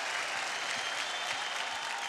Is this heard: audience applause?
yes